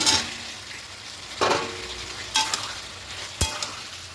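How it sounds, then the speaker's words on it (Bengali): Spiced potato and pumpkin with chickpeas are stirred and fried in a pan. A continuous sizzle runs under three distinct scraping strokes of a spatula against the pan, roughly a second apart. No one speaks. "খুব ভালো করে মিশিয়ে আর একটুখানি কষিয়ে নেব"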